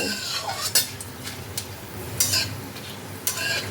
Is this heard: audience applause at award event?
no